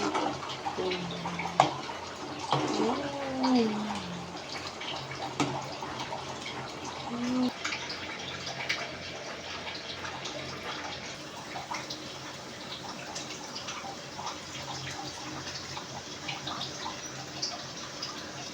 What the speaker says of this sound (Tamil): இது நல்லா கொதி வந்து காய் வேகிற வரைக்கும் நம்ம வெயிட் பண்ணுவோம்